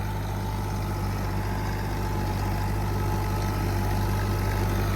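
A Fiat 640 tractor, a 1994 model rated at 75 hp, runs with a rotavator in a steady, loud engine drone. Its low throb holds unbroken and close throughout, with no speech.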